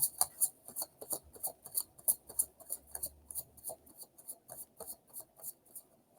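Tarot cards shuffled messily by hand, a steady series of quick, crisp card snaps and slides repeating in a regular rhythm, close and quiet with no talking.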